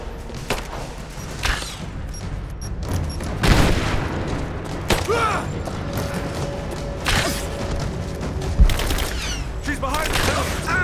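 Gunfire exchange in Rise of the Tomb Raider, with scattered shots, bursts and thuds spread across a busy combat scene, moderately loud and mixed with shouting voices.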